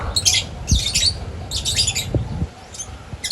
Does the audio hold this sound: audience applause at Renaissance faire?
no